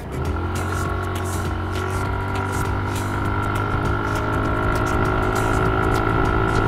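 Suzuki Skydrive Crossover scooter accelerating hard toward 100 km/h, its engine drone and rising tonal whine steady and close, with wind buffeting over the top and no speech.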